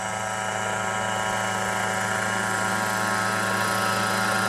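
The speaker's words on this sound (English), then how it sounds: "Before it was only Ito who had the helicopter" Rotor whine and engine hum of a small remote-control agricultural helicopter spraying pesticide in Japan, on steadily at close range, loud and unbroken, with no voices.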